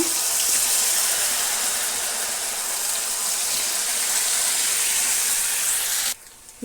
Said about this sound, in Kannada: ಎಣ್ಣೆಯಲ್ಲಿ ಫ್ರೈ ಮಾಡ್ಕೊಂಬಿಡೋಣ